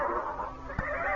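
A horse neighs in a brief whinny as a radio drama sound effect, heard over a steady background bed of sound.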